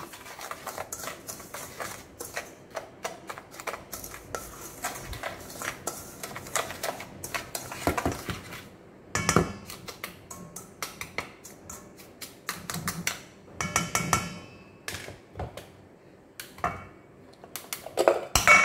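Bibingka batter being mixed in a bowl, with a steady run of quick clinks and scrapes of a utensil against the bowl. The sounds come in irregular bursts, close and fairly loud.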